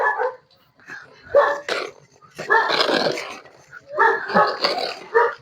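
A dog barks and yaps in several loud, close bursts, separated by short pauses.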